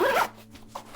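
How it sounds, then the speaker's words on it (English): A zipper on a Clever Supply Co. sling camera bag rasps in one quick, close pull, followed by a faint scrape. "Another thing I really like about this camera bag is the zippers"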